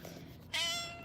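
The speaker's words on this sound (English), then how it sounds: "The cats are here too." Indoors, a cat gives a single clear meow partway through, close and moderately loud over a quiet background.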